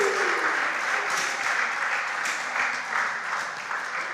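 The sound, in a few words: audience round of applause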